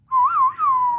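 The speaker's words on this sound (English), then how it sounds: "You know, it's the whistle." A single person whistles a short, clear melodic phrase from a Western film theme, a rising and falling tune that ends on a sustained note, close and loud with no other sounds.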